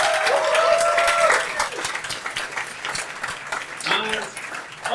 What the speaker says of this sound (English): Give a big round of applause for all of them.